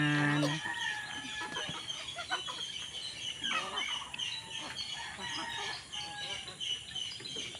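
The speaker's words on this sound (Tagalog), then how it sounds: "Pag mayroon kang ganito, mga manok" Chickens kept at a rural home in Bohol clucking and squawking in overlapping, uneven bursts close by, with a brief rooster crow at the start and a faint voice in the background.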